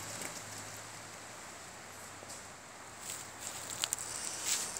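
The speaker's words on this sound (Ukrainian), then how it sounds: "Вітер дме і так шумить ліс" A soft, steady rush of wind through pine forest trees fills the air, with faint rustling and a few light crackles.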